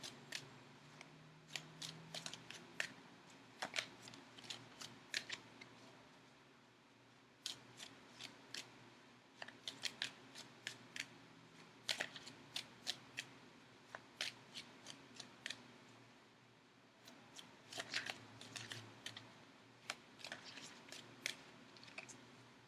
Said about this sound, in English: Okay, so now I am going to shuffle for the outcome card.